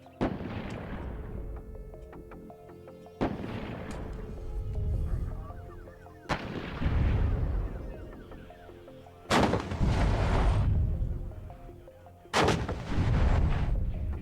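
Heavy artillery guns firing in the video game WARNO, five loud booming shots spaced roughly every three seconds, each followed by a long rumbling roll and echo that fades before the next round.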